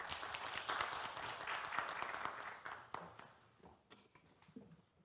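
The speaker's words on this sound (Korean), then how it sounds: "여러분 큰 박수 한번 보내주십시오" Audience applause at a regional newspaper conference's content-contest presentation judging, a dense wash of clapping that fades and thins out toward the end, leaving a few scattered claps.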